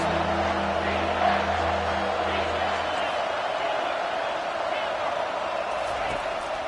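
Stadium crowd in a football video game roars steadily throughout, a dense, loud wash of cheering with a low drone early on and play-by-play commentary over it.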